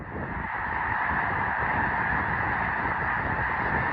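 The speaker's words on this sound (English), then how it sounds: "The birds were already coming in." Dense, continuous honking from a large flock of wild geese coming in over waterfowl-hunting blinds in Kansas fills the air, many calls overlapping without pause.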